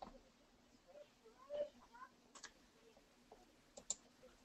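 Computer mouse clicks while working in design software, a few faint, sharp taps spaced irregularly over soft room noise, with quiet indistinct voice sounds in between.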